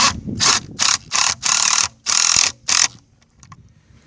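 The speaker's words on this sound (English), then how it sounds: "we're going to bolt these down with our concrete anchors. You're going to need a deep well socket set for this." Ratchet with a deep well socket tightening concrete anchors for a Polylock lid and riser system: a series of loud, close bursts of rapid clicking, several short strokes and two longer runs, then a quiet pause.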